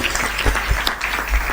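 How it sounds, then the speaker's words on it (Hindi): An audience claps briefly in a dense burst of applause, loud and close, at a live spoken poetry or talk event. "अगर बात सही हो तो ताली बजा दीजिएगा।"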